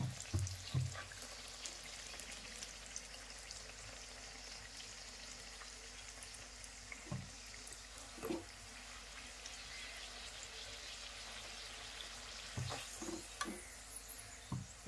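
Pumpkin vade fritters frying in hot oil, a steady soft sizzle running throughout with occasional sharper pops and stirring clinks, fairly quiet and close, with no one talking.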